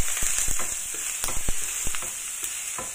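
Ginger and garlic fry in a hot pan with a steady loud sizzle, while a utensil scrapes and taps against the pan in irregular knocks.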